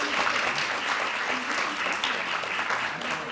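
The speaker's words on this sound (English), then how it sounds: "Let's give them a nice round of applause." Applause from an audience at a future educator signing day, a continuous dense patter of clapping from a crowd with faint voices mixed in.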